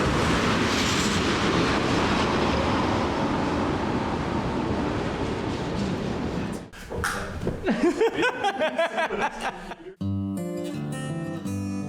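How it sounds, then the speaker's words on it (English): A train rumbles past outside a room, a broad roar for several seconds that fades into scattered clatter, followed by a burst of piano-like music. "there is usually a train coming by"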